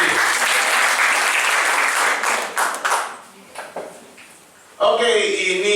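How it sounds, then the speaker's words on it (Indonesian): Dense applause from an audience at a seminar-style event fills the first seconds, then dies down to a few scattered claps before a voice starts speaking loudly near the end. "Tepuk tangan dong buat teman-teman di sini."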